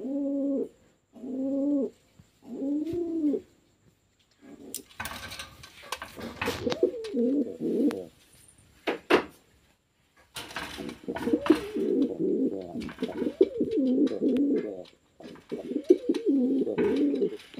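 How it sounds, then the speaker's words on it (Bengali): Pigeons coo from close by, a few short separate bursts at first, then longer runs of repeated rolling coos with brief gaps, clear and moderately loud, with no talking over them. "আর এই যে আমাদের আরেকটি কবুতর।"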